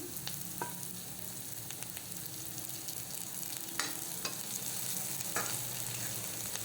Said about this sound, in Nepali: प्याजलाई केही बेर चलाउँछु। यसैमा मैले अब हरियो खुर्सानी पनि राखेँ।